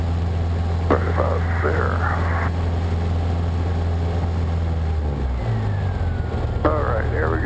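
Cessna 150 engine held at full power on a takeoff roll from a high-density-altitude runway, a loud steady drone running throughout under brief cockpit talk and radio chatter.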